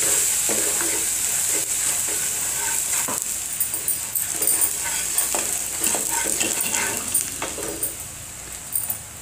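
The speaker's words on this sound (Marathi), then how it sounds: "फोडणीचं तेल गरम झाल्यानंतर मोहरी आणि जिरी अर्धा अर्धा चमचा." Mustard and cumin seeds sizzle in hot tempering oil, a steady crackling hiss with scattered pops running throughout, close and fairly loud, with no talking.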